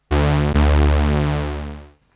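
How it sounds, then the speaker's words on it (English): A single sustained super saw chord from a Korg Volca Keys in unison mode with detune rings out thick and bright. It slowly fades over about two seconds, heard alone. "for the Volca Keys we will do the simplest sound in the book, which is the super saw"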